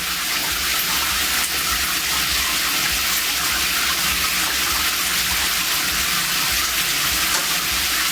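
Tap water gushes steadily into a bathtub in a forest cabin, a loud, continuous broadband rush with no pauses and no voices.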